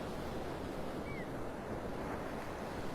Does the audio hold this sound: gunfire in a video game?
no